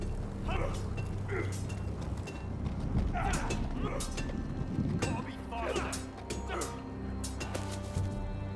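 Horse hooves clip-clop steadily over ground in the Game of Thrones video game, a continuous close rhythm under a constant ambient bed with occasional voices.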